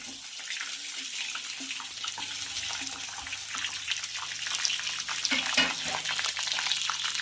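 Fresh grated coconut frying in oil for idli and dosa chutney, a steady broadband sizzle that swells slightly toward the end, with faint stirring clinks and no talking.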